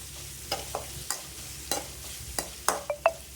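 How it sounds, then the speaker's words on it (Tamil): Onions sauté in a pan during home cooking, a soft sizzle underneath while a spoon scrapes and knocks against the pan in irregular strokes, close and clear with no talk. "வதங்கிடுச்சு வெங்காயம்."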